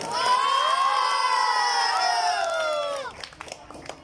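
An audience at a school's annual sports day prize-giving, with loud children shouting and cheering in a sustained, high-pitched roar that breaks off after about three seconds into scattered claps and voices.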